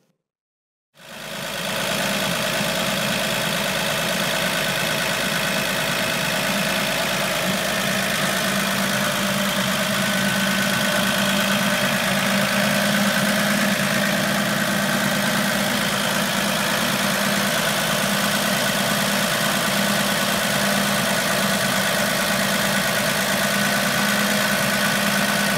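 A 1954 Chevy truck engine starts up and then idles steadily at a low, even rumble, close and loud, running alone for over twenty seconds without a voice.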